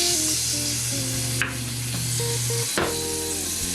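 Cubed squash drops into a hot pan, raising a steady, close sizzle with a couple of brief spatters, while a faint tonal hum runs underneath.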